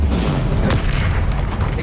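The Confringo spell detonates in Hogwarts Legacy, a dense, loud rumbling blast that fills the whole moment with a roaring, crackling boom and no quiet gaps.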